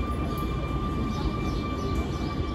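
Interior of a Basque metro subway train in motion, a steady rumbling hum with a faint high electrical whine throughout, no talk.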